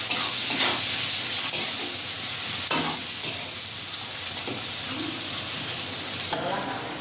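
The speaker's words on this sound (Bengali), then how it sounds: "পেঁয়াজটা এইভাবে ভাজা ভাজা করে নিয়ে নিচ্ছি" Chopped onions with cardamom sizzle in hot oil in a wok (kadai) as a spatula stirs them, a steady close frying hiss broken by several scraping stirs throughout.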